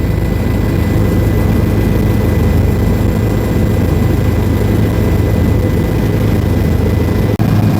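A helicopter flying to Kedarnath roars as a constant, loud, low cabin drone heard from inside, with steady rotor and engine noise and no break.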